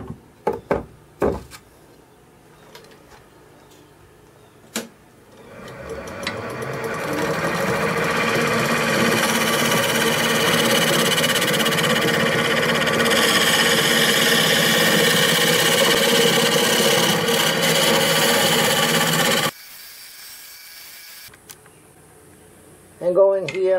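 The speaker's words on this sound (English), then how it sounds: "Get a good tool, and I'm going to use my scraper" A scraper trims a clay vase on a spinning potter's wheel, a steady continuous scraping hum that runs for about fifteen seconds after a few knocks, close and fairly loud, then stops abruptly.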